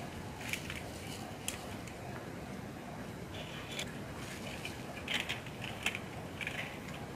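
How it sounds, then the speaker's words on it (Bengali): Nuts being tightened on electrical switchboard fittings in a home wiring setup, giving faint, close ratcheting clicks and small metallic creaks scattered over a low background hiss. "নাটগুলি টাইট দিয়ে দিতেছি।"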